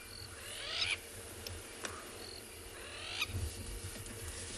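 Crowned lapwings on an afternoon safari in South Africa give two bursts of harsh squawking calls, about two seconds apart, over a soft outdoor background.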